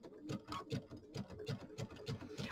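Sewing machine stitching binding down onto a small quilt with monofilament, running in a steady rapid rhythm of close, even stitch pulses with slight pauses, no voices.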